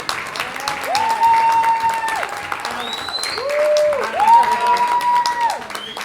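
Guests at a wedding reception at Manor by the Lake clap together in a steady round of applause while voices carry over the top of it.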